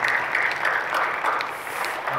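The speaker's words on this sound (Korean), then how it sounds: "박수를 격려해 주시죠" A church congregation claps together during a worship service, a brief, moderately loud burst of steady applause with no voices over it.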